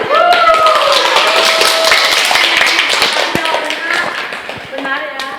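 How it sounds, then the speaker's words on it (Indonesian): A nursing class in a classroom claps hands: a burst of scattered, close claps from a small group that gradually thins out, with voices talking over the clapping throughout. "Baik, tepuk tangan."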